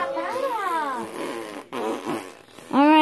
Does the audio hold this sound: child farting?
yes